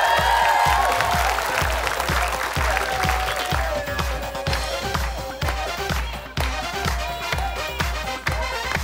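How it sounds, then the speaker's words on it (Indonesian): A game show studio audience applauds for a family member being introduced, loud continuous clapping mixed over a pulsing, driving music bed with a steady low beat. "Tepuk tangan meriah untuk Uncle Richard."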